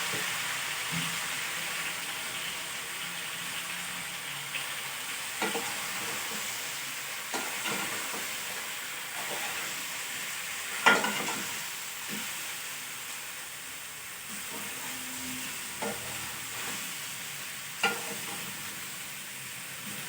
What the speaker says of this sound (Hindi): अब हम ये भी फ्राई करेंगे।